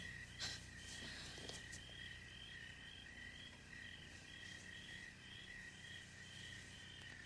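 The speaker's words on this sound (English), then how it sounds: "Crickets in the studio." Steady, continuous cricket chirping fills the scene, a high shrill trill that carries on evenly throughout with a few faint knocks near the start.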